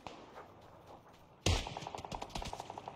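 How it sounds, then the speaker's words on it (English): Shooter video game gunfire, a sudden loud report followed by a rapid automatic burst of evenly spaced shots, sharp and close with no voices over it. "Somebody else is shooting at me right now."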